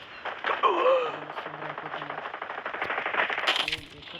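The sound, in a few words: gunfire in the video game Call of Duty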